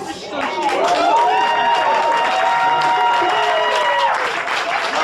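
An audience applauds to welcome performers coming down the show stairs at a Cologne concert, a loud, sustained wash of clapping with cheering and crowd voices, swelling near and fading slightly toward the end.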